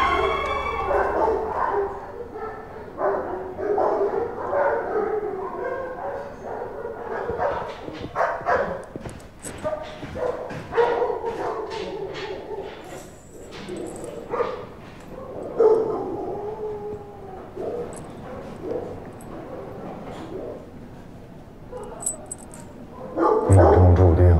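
Police dogs from a dog unit in a Chinese action film bark, yip and howl in repeated bursts of moderate loudness, mixed with speech and background sound.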